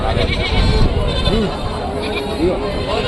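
Goats bleat amid the steady crowd noise of a busy livestock market at Rajarampalli, with a couple of wavering bleats standing out over a loud, dense background of voices and bustle.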